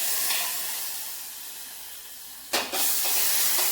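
Liquid goes into a hot pan, with a steady soft hiss that suddenly bursts into a sharp, loud sizzle and then settles into a continuing frothy crackle, close up with no talking.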